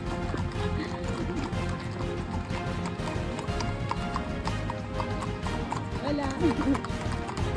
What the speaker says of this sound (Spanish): empiezas a ver también a personas que están haciendo el camino a caballo